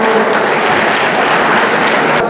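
An audience at a Jagtial event gives steady, dense applause for the Chief Minister, continuous clapping for about two seconds before it cuts off.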